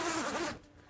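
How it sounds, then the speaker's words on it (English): A zipper on a canvas boat cover is pulled closed in one smooth, close stroke lasting about half a second, then it goes quiet. "check all of our zippers that we want them to have zipped"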